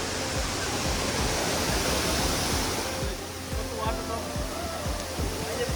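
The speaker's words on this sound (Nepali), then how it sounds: "यो झरना जलबिरे भन्दा अलिक ठुलो रहेछ होइन?" Mohini Jharna, a waterfall on a hiking trail in Makwanpur, Nepal, pours with a loud, continuous roar of rushing water that stays close and steady throughout.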